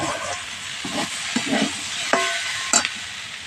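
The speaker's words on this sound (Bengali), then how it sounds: "ডালের গায়ের জলটা যতক্ষণ না একটু শুকনো হচ্ছে ততক্ষণ না একটু নাড়াচাড়া করে নিতে হবে ভালো করে" Masoor dal with potato being stirred in a hot kadai as its moisture dries off, a steady sizzle broken by a few scraping strokes of the spoon against the pan, with no talking.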